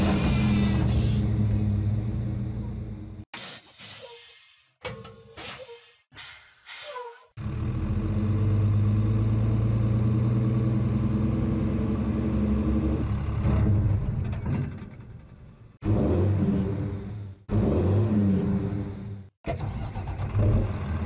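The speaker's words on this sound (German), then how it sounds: "die Sounds einblenden von dem Battlebus, wie er sich hier anhören wird, wenn er zum Beispiel boostet, wenn er bremst, wenn er Gas gibt" A military battle bus engine from Fortnite roars and revs in long loud bursts, cutting off abruptly between runs, then surging again with boosting, braking and accelerating, heard close and alone without talk.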